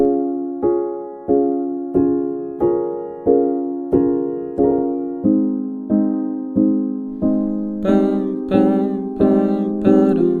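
Piano chords struck in a steady rhythm, each decaying before the next, about twenty hits, with brighter higher notes joining near the end.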